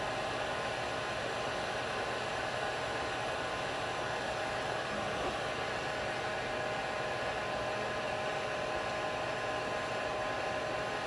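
A heat gun blows steadily on a soldered copper pipe fitting, producing a constant, even rushing-air hiss with a faint fan drone, unchanging throughout.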